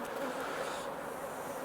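Honey bees swarm and buzz around an open hive frame during a late July colony inspection, a steady dense drone close by with no talk over it.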